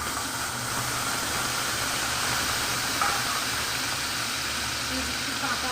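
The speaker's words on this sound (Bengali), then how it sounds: "মাছ ভাজার তেলের মধ্যে দিয়ে দিচ্ছি আমি পেঁয়াজ বাটা" Onion paste dropped into hot oil left from frying silver carp pieces, giving a steady, loud sizzling hiss that runs unbroken through the whole stretch, close up with no talking.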